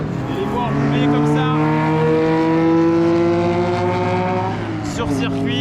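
A vintage collector car races past on the Paul Ricard circuit during the Tour Auto 2021, its engine note sustained and loud as it passes by, with a voice speaking over it.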